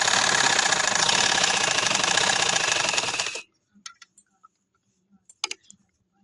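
Electric sewing machine stitching a flower pillow cover, a loud close steady whirring run for about three seconds that stops abruptly, followed by a few faint clicks and handling taps.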